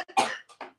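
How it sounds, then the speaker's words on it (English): A short, dry cough in two or three quick bursts, close and fairly soft, with nothing else around it. "Was it a dry cough?"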